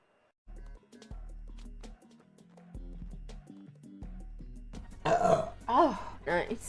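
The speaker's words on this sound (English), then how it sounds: "Sorry about the burps. Not drinking any more Coke. Coke makes me burp so much." Loud, drawn-out burps from someone who has been drinking Coke, arriving as several rough bursts near the end after a quieter stretch of steady background sound.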